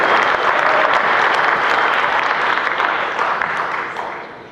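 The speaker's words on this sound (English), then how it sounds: "A round of applause for all the women who are involved in the sweetest science" Loud, sustained applause from an audience at the Atlantic City Boxing Hall of Fame awards ceremony, a dense wash of clapping that holds steady before tapering off near the end.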